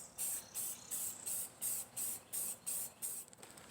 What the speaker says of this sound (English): now I'm gonna spray it